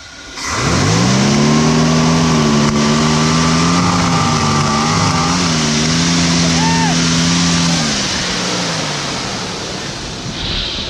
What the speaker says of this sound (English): when he stepped on the gas all the way, it had power, but it wasn't opening up all the way